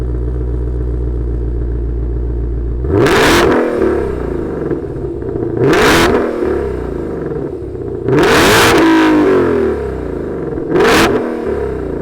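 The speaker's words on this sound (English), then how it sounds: "let's fire up this GT500 and hear what it sounds like" A 2021 Ford Shelby GT500 muscle car fires up from a low rumbling idle, then delivers four loud, sharp revs spaced a few seconds apart, each falling back to a throbbing idle, close by with no talk.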